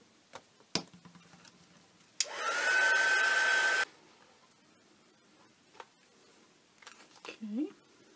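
A hair dryer blows for about a second and a half to dry acrylic paint on a craft project, steady and fairly loud, with a few taps and clicks around it.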